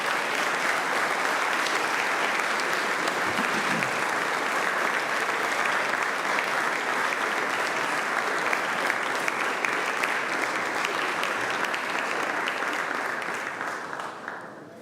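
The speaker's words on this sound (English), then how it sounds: "give them a hand of applause" Long, dense standing ovation from a large crowd at a collegiate graduation ceremony, a continuous wash of clapping that holds steady for many seconds before beginning to fade at the end.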